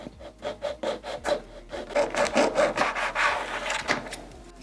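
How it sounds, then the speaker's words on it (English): Hand tool cutting through the plastic cowling on a scale model reactor part, a steady series of close, rhythmic rasping strokes that grow louder and denser midway, with no talking. "Now what I want to do is I want to cut some of this cowling off right here."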